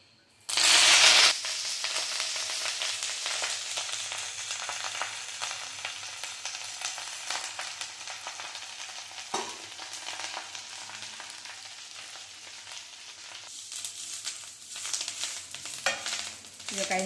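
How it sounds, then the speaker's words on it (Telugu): Curry leaves dropped into hot oil and frying, a sudden loud burst of crackling sizzle that settles into a steady hiss with occasional stirring, close up with no speech. "2 స్పూన్ల ఆయిల్ వేసుకొని ఇప్పుడు కరివేపాకును వేయించుకోవాలి."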